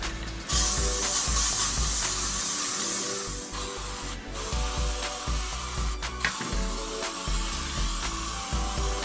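Spray primer hisses from an aerosol can onto bare wood in a series of close, steady bursts separated by brief pauses, with faint handling noises between the sprays.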